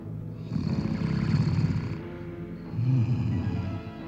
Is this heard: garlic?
no